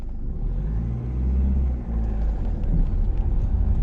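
A learner driver's car pulls away in first gear from a stop, a steady low engine rumble rising gently from inside the cabin, with no talk over it.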